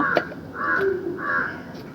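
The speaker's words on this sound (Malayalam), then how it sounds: "ഞാൻ ഇപ്പം വീഡിയോ എടുത്താലും കാ കാ കാ കാ എന്ന് പറഞ്ഞ് എവിടെന്നെങ്കിലും വരും" A crow caws three or four times in a slow, spaced rhythm, fairly close and clear against a quiet background.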